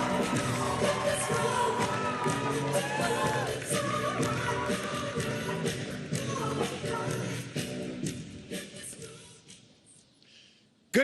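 A large crowd of campaign supporters at Howard University in Washington, D.C. cheers and yells over loud rally music. The roar is dense and sustained, then it thins and fades toward the end.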